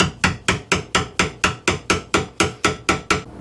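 A hammer strikes a chisel against the edge of a wooden motorhome kitchen counter about fourteen times in a steady, quick rhythm. Each sharp, close knock stands alone with nothing else in between.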